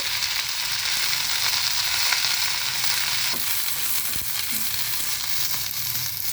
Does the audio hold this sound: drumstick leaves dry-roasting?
yes